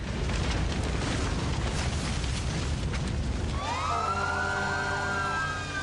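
Several emergency vehicle sirens wail and rise at an air crash site, loud over a dense roar of rumbling noise, with the wavering tones swelling in the second half.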